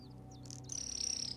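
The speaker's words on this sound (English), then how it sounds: "This must be Jasper, the parrot" A parrot in a video game calls with short chirps followed by a high, sustained whistling note, fairly quiet against a low background hum.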